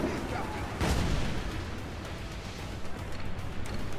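Mortar fire from a ship in Assassin's Creed IV Black Flag naval combat: a deep booming blast near the start that rolls into rumbling, muffled explosions and distant cannon fire.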